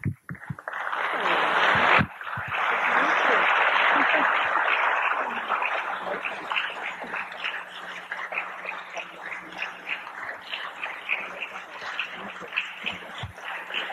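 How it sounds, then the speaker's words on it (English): An audience at a religious lecture gathering applauds in a dense, steady wash of clapping that swells early and then thins into scattered, uneven claps near the end. "Give them a better round of applause than that, brothers and sisters."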